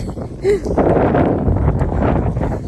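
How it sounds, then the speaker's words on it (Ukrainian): Strong outdoor wind buffets the microphone in a steady rough roar, with a person talking over it. "на вулиці сонечко світа, але вітер страшне, вітер холодно"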